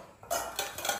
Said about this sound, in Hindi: कल मैंने खाना बनाया था इसलिए आज उसको बर्तन धोना पड़ रहा है।